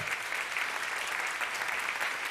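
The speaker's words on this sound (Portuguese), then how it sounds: "Pode aplaudir ao Senhor." A church congregation claps in a sustained, even burst of applause during a worship service, dense and steady from start to finish.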